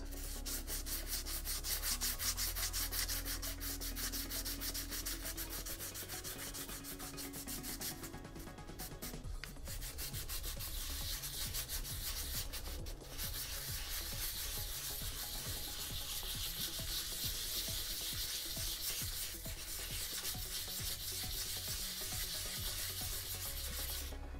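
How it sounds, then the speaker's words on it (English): Steady, soft rubbing of fine sandpaper by hand on Boba Fett costume armor, continuous light strokes in small circles, close and unbroken with no talking. "just lightly, very lightly hand sand everything smooth"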